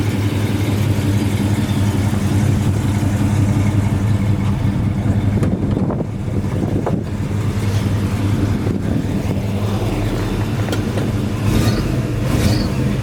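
A 1968 Chevy Impala's 383 stroker V8 idles steadily with a deep, even low rumble, close by and continuous, with a few faint clicks and knocks over the top.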